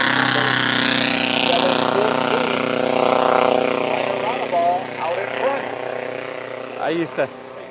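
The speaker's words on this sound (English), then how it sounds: "Some old cars racing on the road." A loud vintage race car engine roars past at the Pittsburgh Vintage Grand Prix, its pitch rising and then dropping as it goes by, followed by another engine buzzing closer.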